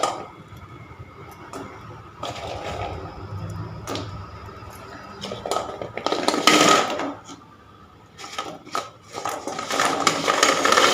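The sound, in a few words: putting gulab jamun balls into sugar syrup in a pan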